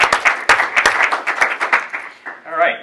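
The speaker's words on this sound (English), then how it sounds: "We can give them a round of applause to thank them for this." Audience at a community college forum on California's Master Plan for Higher Education breaks into loud, close applause. Dense clapping with sharp individual claps runs for about two and a half seconds, then fades out.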